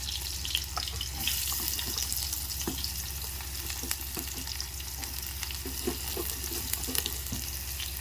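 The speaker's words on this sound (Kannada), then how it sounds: "ಜೀರಿಗೆ ಸಾಸಿಗೆ ಎಲ್ಲ ಚಟ್ಪಟ್ ಚಟ್ಪಟ್ ಅಂತ ಸಿಗ್ಲಿರ್ತಾವ" Cumin and mustard seeds crackling and sizzling in hot oil in a pan, a continuous hiss dotted with sharp little pops, close and steady throughout.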